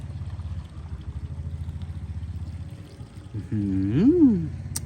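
Brewed kratom leaf liquid poured through a filter, a soft continuous trickle and splash with low gurgling, near and fairly quiet, swelling briefly toward the end.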